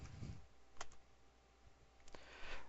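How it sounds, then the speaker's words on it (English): A few isolated keystrokes on a computer keyboard, quiet and close, with scattered light clicks separated by gaps over a low background hum. "type in purchase again"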